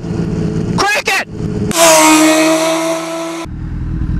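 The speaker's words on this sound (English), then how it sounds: "Crank the throttle, man. Just crank the throttle. Crank it." A motorcycle engine on the street revs hard with the throttle cranked, a loud sustained high-pitched roar lasting about two seconds after brief rising revs, with someone talking before it.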